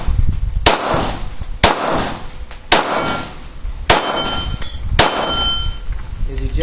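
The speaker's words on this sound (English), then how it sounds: "See, these rounds are ejecting straight back." A Glock 19 Gen 4 pistol fires five sharp, loud shots at an outdoor range, roughly one per second, each followed by the metallic clink and ring of ejected brass casings landing nearby.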